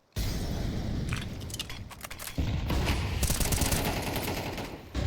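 Rapid gunfire bursts in a Counter-Strike esports match, dense crackling volleys and clicks close up that run almost continuously, with a brief lull midway before the shooting resumes.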